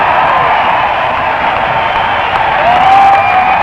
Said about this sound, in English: A cheer from the Sooner Boomer fans as the men from Oklahoma take the field.